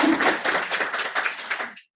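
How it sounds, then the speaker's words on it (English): A seminar audience gives a short burst of close, crisp applause that holds briefly and then cuts off abruptly. "let's give her a hand"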